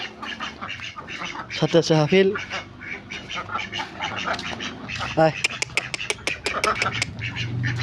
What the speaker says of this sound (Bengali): এদিকে আছে আমার হাঁস